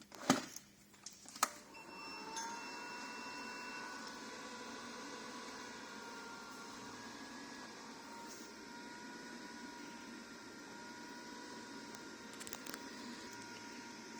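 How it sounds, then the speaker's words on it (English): A smoke machine pushes smoke through the intake manifold of a Porsche Boxster S, starting after a few clicks and clunks and then running as a steady, quiet hiss and hum with faint tonal whine, with no talking. "We're going to run smoke through the intake to make sure there's no leaks in the intake manifold"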